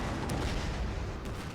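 Cannon artillery fire in the video game Fall of the Samurai during the Battle of Soja, a dense rumbling barrage of booms blending into continuous loud roar, with no voices.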